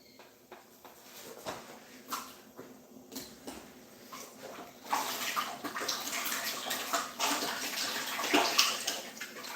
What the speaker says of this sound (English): Let me wash my hands after this